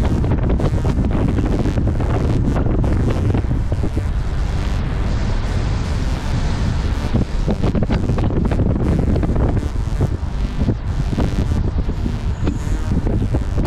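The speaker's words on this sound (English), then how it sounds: "Listen to that wind." Strong wind roars over a cyclist riding in blustery conditions, a constant loud buffeting rush with gusty swells and no pause throughout.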